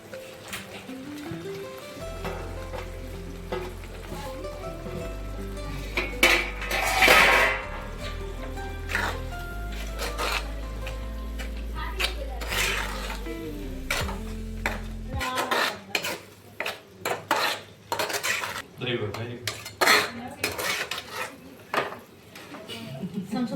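Paneer bhurji being cooked and stirred in a home kitchen pan, with repeated scraping and clinking of a spoon against the metal and a low sizzle, loudest early on, followed by scattered clattering knocks toward the end.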